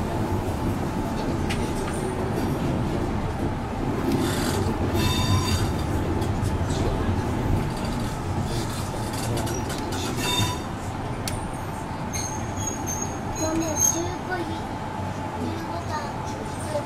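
Yoro Railway 610 series electric train creeping through the depot into a storage siding, with steady rolling rumble and bursts of high wheel squeal throughout, under an announcer's voice.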